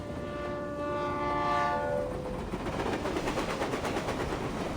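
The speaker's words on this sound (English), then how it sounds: "why is the stupid train never on time?" A train horn sounds a sustained chord, then fades into the rolling rumble and rhythmic clatter of a train drawing in, in the video game Reverse: 1999.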